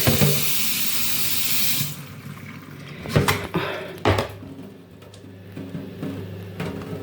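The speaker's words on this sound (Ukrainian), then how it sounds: "Промила, зараз іще так. Хай водичка стече." Water runs from a kitchen tap over freshly rinsed vegetables, a loud steady splashing hiss for a couple of seconds. It then stops, leaving scattered knocks, clatters and drips as the water drains away nearby.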